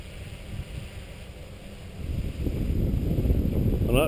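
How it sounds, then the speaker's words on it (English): Strong wind buffets an outdoor microphone during a model aircraft test flight, a dense low roar that grows louder and rougher toward the end, with no clear speech. "That is a strong wind."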